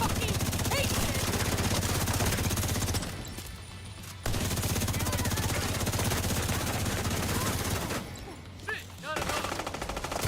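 Sustained automatic gunfire from a firefight in The Division 2, dense rapid bursts nearly continuous and loud, with brief lulls around the third and eighth seconds before the shooting resumes.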